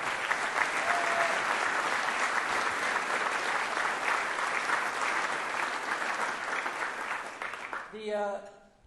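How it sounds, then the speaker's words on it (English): Dinner audience at a military combat development dinner gives sustained, loud applause from a large crowd, steady throughout before a voice begins at the end. "Please, a round of applause for the club."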